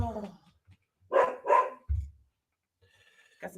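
A pet dog named Lola barks indoors, giving a few loud close barks in quick succession and then one more, with people talking around it.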